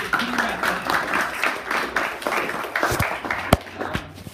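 A convention panel audience gives a round of applause, a scattered patter of clapping of moderate loudness with a few sharper individual claps, mixed with faint background murmur.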